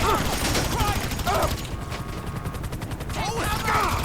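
Rapid bursts of gunfire ring out in Grand Theft Auto V, a dense rattling volley in the middle of the clip. A voice speaks before and after the shooting.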